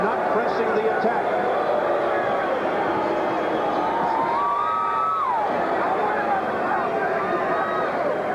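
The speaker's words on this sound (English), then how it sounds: "Now the crowd booing" Boxing arena crowd at a Terry Norris versus Simon Brown fight, a loud continuous roar of voices with jeers and booing swelling steadily throughout, dense and unbroken.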